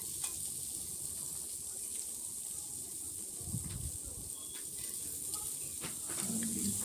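Chopped onions fry in a pan for a Bengali-style chicken curry, a steady broad sizzle with occasional stirring scrapes and small pops running continuously throughout.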